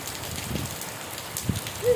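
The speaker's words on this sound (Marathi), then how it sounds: "कसं पडतं मग पाऊस" Rain falls in a soft, steady patter, faint and continuous over a short stretch.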